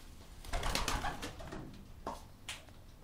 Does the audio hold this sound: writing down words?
no